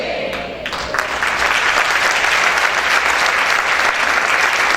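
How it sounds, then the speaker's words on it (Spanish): Church congregation breaks into applause after a sermon, building quickly from a few scattered claps into dense, loud, sustained clapping that fills the room with no talk over it. "Ese aplauso para el Señor"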